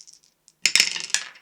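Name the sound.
die dropped on the floor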